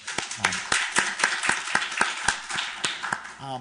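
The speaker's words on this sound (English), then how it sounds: "Maybe a small round of applause for them." A symposium audience gives a small round of applause for a student journal team, with distinct, fairly sparse hand claps in a steady patter from a modest crowd, and a brief voice at the very end.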